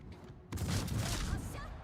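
Naval gunfire in World of Warships, with the Dmitry Pozharsky cruiser firing on the Lexington carrier: a sudden loud broadband boom at mid-clip that rolls into a sustained rumbling salvo.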